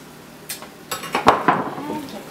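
A spoon scrapes and clinks against a bowl while scooping out chili cheese filling, giving a handful of short, close scraping knocks.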